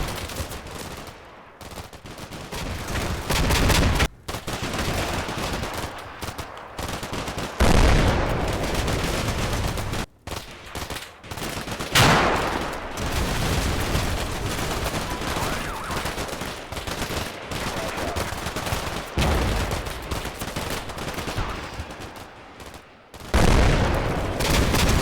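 Heavy gunfire from a Stryker vehicle mixes with mortar fire in Combat Mission Shock Force 2, where dense bursts of automatic shots and occasional booming impacts continue steadily for about twenty-five seconds with brief lulls.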